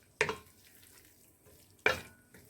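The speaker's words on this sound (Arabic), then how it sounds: "هنبدا بقى نديلهم تشويحه كده" Chicken with spices and honey tossed in a pan, two distinct sizzling stirs about a second and a half apart, each a sharp burst that fades quickly into a quiet background hiss.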